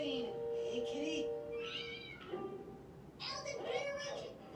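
A cat meows in a medieval witch-hunt video game, a few drawn-out, wavering cries close up, with short gaps between them.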